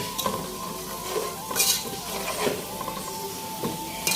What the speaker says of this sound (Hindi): थोड़ा सा साबुत जीरा डाल लेती हूँ